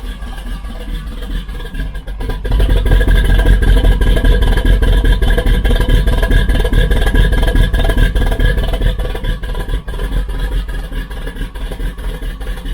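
A loud, deep engine rumbles steadily at idle through a custom-built 2-into-1 exhaust, with a throaty exhaust tone and some clatter, close by and continuous.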